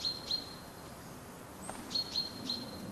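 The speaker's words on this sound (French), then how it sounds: "Ça, c'est des chants d'alarme qui indiquent la présence potentielle d'un prédateur." Forest birds in the Roya valley give alarm calls: faint, sharp high chirps repeated in short bursts against a quiet, hushed background.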